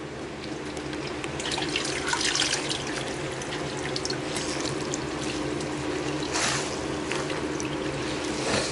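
Water pours steadily into a washing machine during cleaning, a loud continuous splashing rush with some rattling, mechanical texture and a brief surge partway through; no voices.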